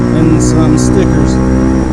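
A Bashan Motomax 250 motorcycle engine revs high while cruising at about 60, a loud, steady, close drone that holds for the whole moment.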